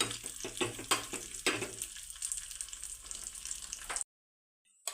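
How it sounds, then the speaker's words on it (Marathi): Cashews and raisins frying in oil for rice kheer, a soft bubbling sizzle with a few clinks of a spoon, quiet and close, cutting off abruptly near the end. "काजू टाकून घेऊयात थोडेसे मनुके हलक्या रंगावरती आपल्याला यांना तळून घ्यायचं आहे"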